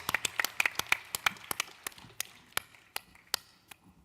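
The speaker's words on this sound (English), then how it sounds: "Let's give him a round of applause." Applause from a small convention audience at an EVE Fanfest open mic night, a loose run of sharp separate claps that thins out and grows sparse toward the end.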